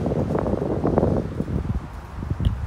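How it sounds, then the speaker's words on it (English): Gusty wind buffets a microphone outdoors at a new-construction housing complex, a loud continuous low rumble with rustling surges and no talk. "Hope the wind's not so bad."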